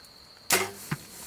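An archery arrow strikes a pronghorn buck with a sudden hollow thump, followed by a brief fading rustle and a second faint knock, heard outdoors over quiet background hiss.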